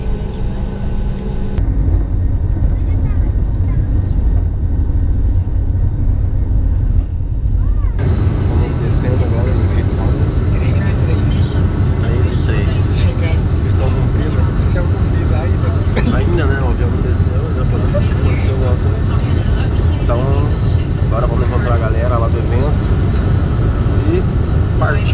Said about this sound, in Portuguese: Estamos decolando de noite praticamente